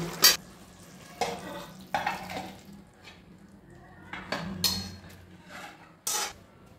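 Duck egg curry being scooped out of a wok, with intermittent scraping and clinking of a utensil against the pan in short bursts, some faint sizzling between them.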